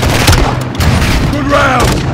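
A launcher fired during combat in Call of Duty MW2 on PS5, a loud booming blast with crackling gunfire around it and a brief radio-style voice over the din.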